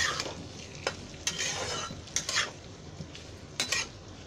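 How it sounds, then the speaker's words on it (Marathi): Diced potatoes and chillies frying in oil for sabudana khichdi, with a soft, steady sizzle under repeated clinks and scrapes of a utensil stirring the pan. "आता त्याच्यामध्ये हे आलू कापलेलं आहे ना, बटाटा फोडं करून ते टाकते."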